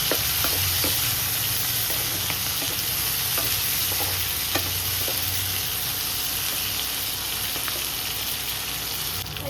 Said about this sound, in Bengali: ক্যাপসিকামটা এর সঙ্গে ভাজা ভাজা করছি।